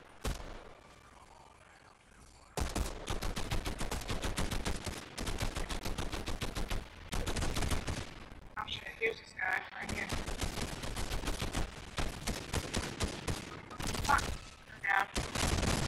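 Heavy gunfire in Fortnite, long bursts of rapid shots that stop and start in several stretches after a quiet opening, with players talking at moments between the volleys.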